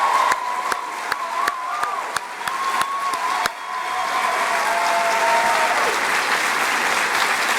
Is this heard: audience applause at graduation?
yes